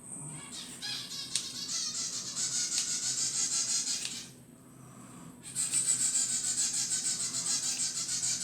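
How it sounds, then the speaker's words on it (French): Scissors snip and rasp through food, cutting it into strips inside a dish, in steady close scraping bursts with a short pause midway. "Le ciseau. Je reprends mon plat et je vais les couper dedans."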